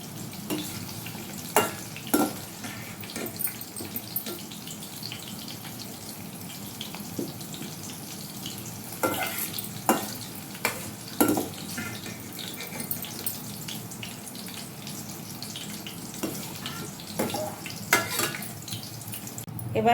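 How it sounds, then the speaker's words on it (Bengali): Green beans fry and are stirred in a pan, giving a soft sizzle broken by scattered scraping clicks, while a quiet voice talks intermittently. "বিনস খুব বেশি ভাজতে হয় না, হালকা ভাজলে পরেই গ্লসি লুক চলে আসে।"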